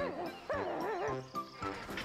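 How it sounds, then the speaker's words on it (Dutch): Yapping, whimpering dog sounds, several high-pitched wavering yelps in quick succession, close and fairly loud. "Waarom blaft Woefie zo hard?"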